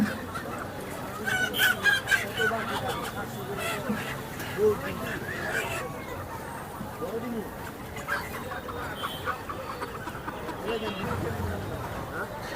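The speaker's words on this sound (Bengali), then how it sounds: "সোনালি মুরগির পাশাপাশি ব্রয়লার মুরগিও রয়েছে এখানে" Sonali and broiler chickens cluck and squawk amid a busy outdoor market crowd, with people talking nearby and occasional sharper bird calls rising over the chatter.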